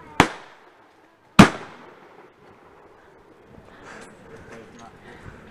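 Two sharp, loud gunshots ring out at a gun range, about a second apart, each with a brief decaying tail, followed by quieter background shuffling and faint talk.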